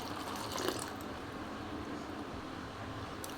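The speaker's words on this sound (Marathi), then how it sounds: "ह्याला मी आता दोन तीन पाण्यामध्ये स्वच्छ असं धुवून घेणार आहे" Soft continuous swishing and trickling of water as cluster beans are rinsed, low and steady with a small splash near the start.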